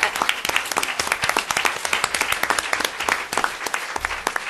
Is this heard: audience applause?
yes